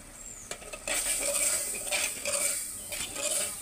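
Masala with yogurt stirred and fried in a pan, a spoon scraping and clinking against the metal in an irregular rhythm over a steady low sizzle, close by.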